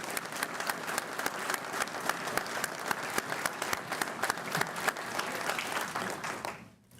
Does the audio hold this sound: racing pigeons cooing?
no